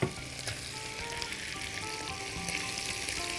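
Meat sizzles in a hot pan with a steady, crackling fry, dotted with small pops and spits and no talking over it.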